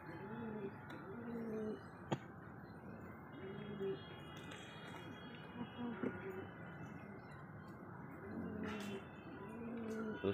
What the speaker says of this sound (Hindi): तो ये तीन कबूतर हैं वो गोला कबूतर है